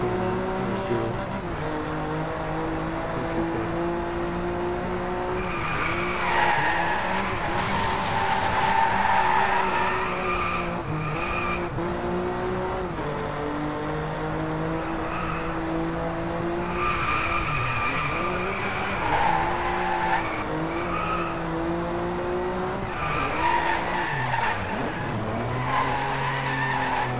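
Tires on a BMW M4 squeal and skid through long drifts in DRIVECLUB, the engine droning and revving beneath repeated wavering screeches, loud and continuous.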